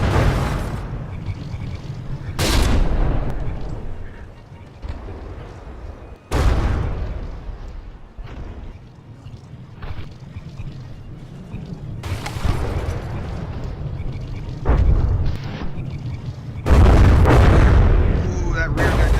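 Naval guns on warring frigates in the From The Depths ship-combat game boom in irregular, loud bursts, each shot or hit cracking sharply then rumbling away, with quieter battle noise between.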